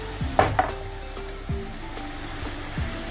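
Boneless beef sizzles and fries steadily in a pan, with a few sharp spoon scrapes and clinks near the start and occasional stirring knocks over the continuous crackle.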